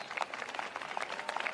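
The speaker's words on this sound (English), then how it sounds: "that's worth applause" Audience applause at a White House state arrival ceremony for Kenyan President William Ruto, heard as a brief, faint patter of scattered clapping with a thin, distant quality.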